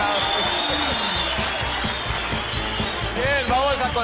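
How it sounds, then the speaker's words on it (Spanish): A studio audience applauds on a variety show in a steady, dense wash of clapping that holds at one level throughout, with scattered shouts and cheers rising above it. "El aplauso para..."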